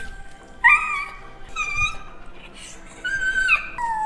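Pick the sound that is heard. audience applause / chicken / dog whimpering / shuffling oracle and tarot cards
dog whimpering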